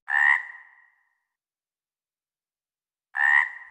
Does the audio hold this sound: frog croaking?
yes